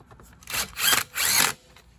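An impact driver runs in three short bursts on bolts being fitted to a Troy Bilt or Craftsman lawn mower carburetor area, each burst a loud broadband rattle with brief pauses between.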